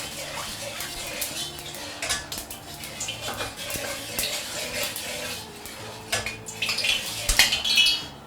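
Metal clatter and scraping in a wok as oil is swirled around to grease it before frying fish bones, with irregular knocks and a soft liquid wash, moderately close.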